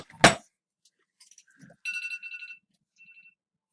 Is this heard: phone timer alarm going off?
yes